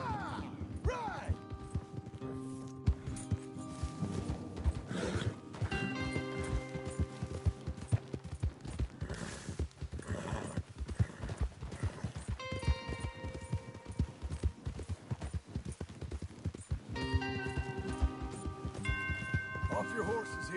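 Horse hooves clip-clopping in Red Dead Redemption 2 on a farm job, steady plodding hoofbeats of riders moving together, with occasional snorts and characters talking over the hoofbeats.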